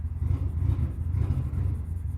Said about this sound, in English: somebody's got a nice car out there